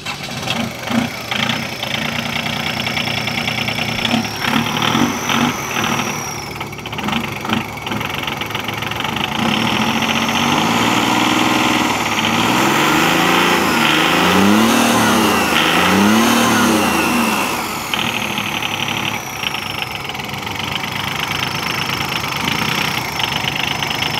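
A diesel motorcycle engine at a Mosten race day in Denmark starts, idles roughly with a knocking clatter, then revs up and down in several loud, close bursts.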